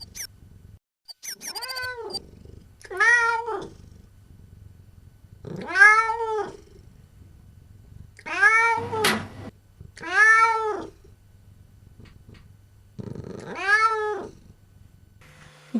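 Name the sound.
cat Réglisse hissing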